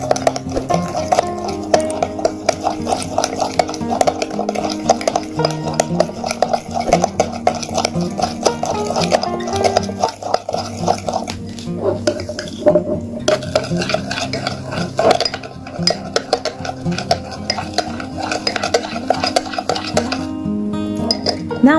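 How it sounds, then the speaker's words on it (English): A spoon scrapes and clinks steadily against a bowl while homemade skin care remedy ingredients are mixed, a continuous rhythmic stirring with occasional sharper taps, close and clear. "Now mix well all the ingredients."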